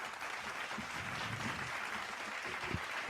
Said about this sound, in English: I just have to give you a nice little round of applause